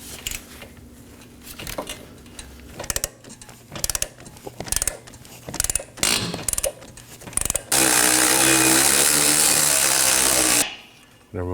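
A socket wrench working a brake bracket bolt loose on a 2018-2024 Chevrolet Equinox rear brake, heard as loud close metallic clicks and clunks, followed by a sustained harsh mechanical whirring burst that cuts off abruptly.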